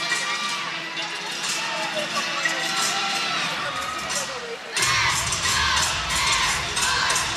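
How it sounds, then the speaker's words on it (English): Teammates and spectators at a college gymnastics meet cheer and shout along during a floor routine, a busy crowd roar that swells louder about two-thirds of the way through. "Teammates on the side dancing with her and cheering along"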